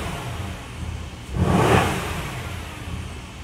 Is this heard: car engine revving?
yes